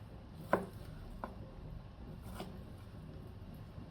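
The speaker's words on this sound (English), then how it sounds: "And then you just want to just cut down like that." A knife chops through stacked thick-cut bacon on a board, with a couple of sharp, distinct taps spaced apart over a quiet room background.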